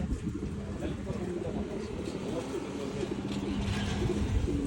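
Racing pigeons coo in a Pampanga loft, a steady layered murmur of soft rolling calls under continuous background noise, with a voice talking faintly at times.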